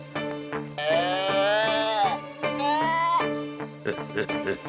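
Two drawn-out, wavering bleats of a cartoon sheep from Lucky Luke, loud and close, with a rhythmic musical backing and some talk around them.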